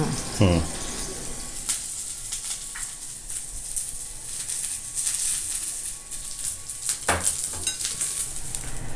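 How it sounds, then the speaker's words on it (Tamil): Green chillies sautéing in ghee, heard as a soft, continuous sizzle with occasional stirring and a brief splash of running water, close by and mostly without speech. "நெய் விட்டுட்டு அந்த 2 பச்சை மிளகாய் வதக்கிப்பேன்."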